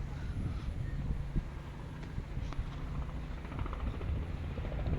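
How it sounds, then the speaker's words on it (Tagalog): A helicopter circles overhead near a tulip garden, its rotor heard as a faint, distant, continuous rumble mixed with wind noise and no talking. "Ano ba yung helicopter na yun? Kanina pa man yan, ikot ng ikot."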